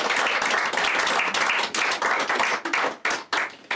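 Close audience applause in a small live-music room after a performance, several seconds of brisk clapping that thins out and breaks into scattered claps toward the end.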